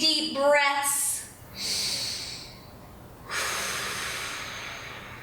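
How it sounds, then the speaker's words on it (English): Deep breaths taken while holding a hip stretch: a brief throaty sound is followed by long, close, audible exhales and inhales, each drawn-out breath hissing and then fading. "take 3 big deep breaths"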